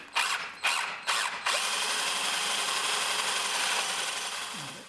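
A power drill with a 3/4 inch spade bit bores a latch hole in a door, starting with three short bursts before settling into one continuous close, whining run that tapers off at the end.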